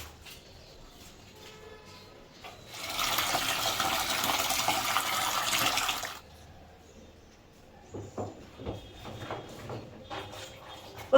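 Dishes and a bowl rinsed under a running kitchen tap, a loud gush of water for a few seconds, then the tap stops, followed by clinks and light handling sounds.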